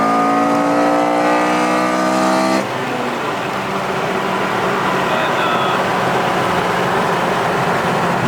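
A 2006 Mitsubishi Lancer Evolution 9 MR engine roars loud and close with a strong revving tone. The pitch drops suddenly as it eases off and settles into a steady drone, with road and wind noise underneath.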